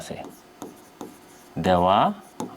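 A pen or marker scratches out short strokes while math is being taught, with brief scratchy bursts separated by pauses and a voice cutting in briefly partway through.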